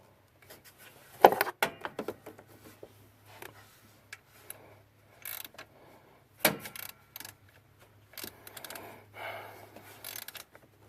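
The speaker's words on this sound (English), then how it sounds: "I'll be tightening this bolt right here" A ratchet tightening the alternator belt bolt on a Scion xB, heard as scattered close clicks and short ratcheting bursts separated by quiet gaps, with a faint low hum underneath.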